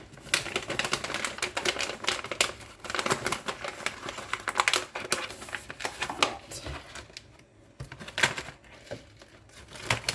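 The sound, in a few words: dry pasta poured into a bag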